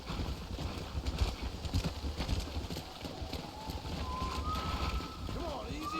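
Horse hooves clip-clopping in the video game Red Dead Redemption 2, a steady rhythmic trot under rushing wind noise, with voices talking over the hoofbeats.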